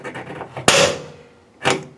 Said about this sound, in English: Once you hear that click, it's made a little indent in the metal.